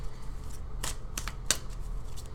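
Tarot cards pulled from a deck one at a time, with several short crisp papery snaps and slides near and fairly quiet over a low steady background hum.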